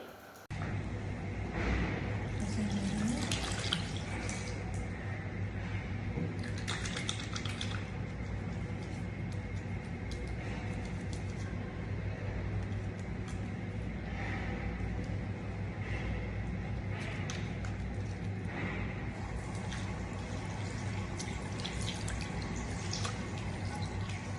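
Water runs steadily from a tap, faint and even, with occasional splashes and rubbing as hands are washed with soap beneath it.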